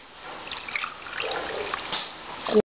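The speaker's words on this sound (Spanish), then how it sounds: "le agregué 5 pocillos y medio de agua" Water poured from a cup into a pot of vegetables and seasonings for chicken rice, a steady trickling splash lasting a few seconds and ending with a final clink, close and moderately loud.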